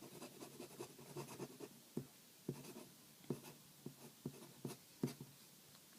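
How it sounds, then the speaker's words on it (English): A Lamy Safari fountain pen scribbles fast across paper, its nib giving a quick run of dry scratchy strokes in an uneven rhythm, close and soft with no voices. "If you want to see some fast writing"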